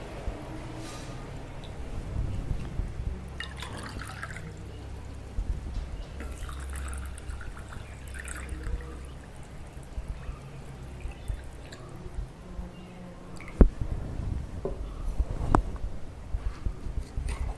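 Water is poured and drips into soil in a container, with soft trickles and scattered drips, quiet and close, with no talk over it.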